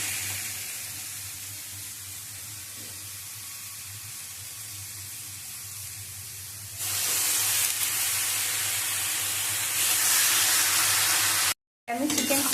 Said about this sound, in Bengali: এবার আমি চিকেন কিমাটা দিয়ে দেবো।